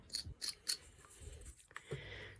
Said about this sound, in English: make sure you stop cut that upper lid and get some wood taken out underneath it